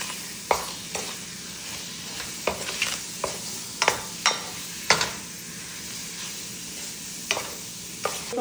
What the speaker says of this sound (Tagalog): At ilalagay ko na dito ang chicken. Mix-mix ko lang siya ng konti.